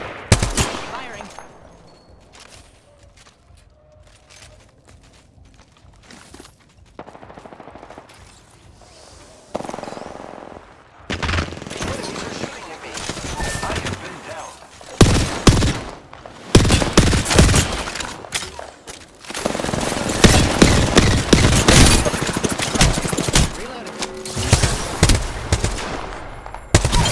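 Gunfire in the Apex Legends video game, with dense bursts of automatic fire and sharp shots that grow louder and busier over the stretch, some game voice lines underneath.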